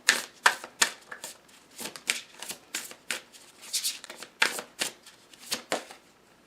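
Tarot cards being shuffled by hand during a reading, a run of crisp riffling bursts and soft flutters in an irregular rhythm, close and fairly quiet, with no talking.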